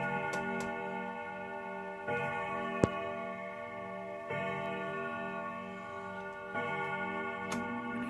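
A clock chimes in slow, resonant strikes that ring and overlap, about four tones spaced a couple of seconds apart, with faint ticking underneath and no talk.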